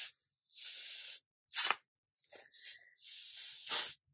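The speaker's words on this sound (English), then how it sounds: "So a drop of ink and the canned air." Canned air hisses in several short and longer bursts onto a drop of magenta ink, close and sharp, with brief silences between sprays.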